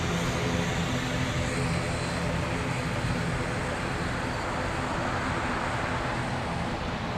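An ATR 72-600 turboprop airliner arriving at Frankfurt airport, a steady, broad engine and propeller rumble held at an even, fairly close level throughout with no voices.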